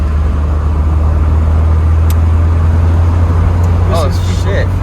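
A 43-year-old MG B GT engine accelerating at full throttle, a loud steady low drone heard from inside the car with road noise and a few brief voices over it.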